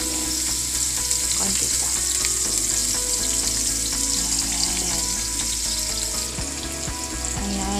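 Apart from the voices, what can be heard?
onion frying in oil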